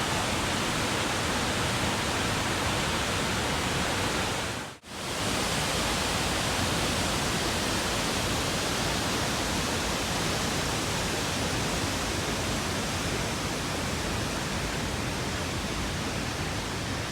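A Kentucky waterfall gives a steady, loud, unbroken rush of falling water, cut by one brief dropout near the start.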